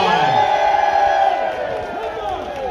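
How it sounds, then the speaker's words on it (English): A crowd at a street march in Swansea cheers and whoops loudly, many voices rising together and then slowly trailing off into scattered shouts. "Come on, let's have a big cheer"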